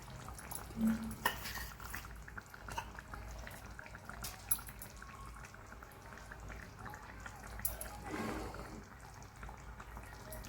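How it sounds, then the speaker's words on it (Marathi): A lid lifted off a cooking pot of bottle gourd paneer and fresh coriander added, faint clinks of metal and soft rustles scattered over a quiet kitchen background, close but low in level. "आपण आता याचं झाकण काढूया"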